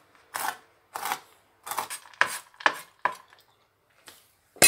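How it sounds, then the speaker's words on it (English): A knife chops pecans on a cutting board for cookie dough, giving about eight crisp, separate knocks in an uneven rhythm. They are close and fairly quiet, with no talking. "And that just about finishes up the chopping of our nuts."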